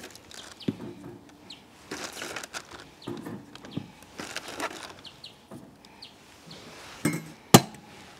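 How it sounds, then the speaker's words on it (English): Frozen pies go into a preheated 12V-24V Travel Buddy portable oven on the top rack, with scattered close clinks, scrapes and knocks of metal and tray handling and a sharp clack near the end. "And we're going to bung them in to our preheated oven. Give them the best chance we can. We'll put them up on the top rack."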